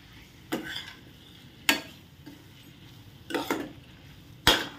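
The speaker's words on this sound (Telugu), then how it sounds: "ఇప్పుడు బాగా కలుపుకోవాలి." Curry is stirred in a pan, with four distinct scraping, clinking strokes spaced a second or so apart. Each is close and fairly quiet, with low background noise and no talking.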